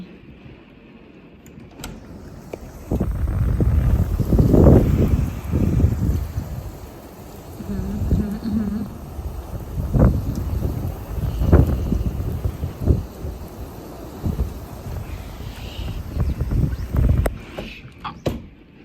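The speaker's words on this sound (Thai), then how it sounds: "วันนี้พายุเข้า ลมแรงมาก ลมแรงทั้งคืนเลยค่ะ แล้วตอนนี้ฝนก็ตกแล้วด้วย" Strong storm wind with rain roars in heavy, rumbling gusts that surge and fade across the whole stretch, buffeting loudly close by with a faint background hiss.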